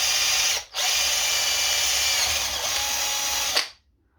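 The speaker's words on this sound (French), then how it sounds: "il me faut percer ça, la tourelle" A power drill with a 5 mm bit bores through a car's shock absorber strut tower, a loud steady whine with a brief dip early on, then cutting off abruptly near the end.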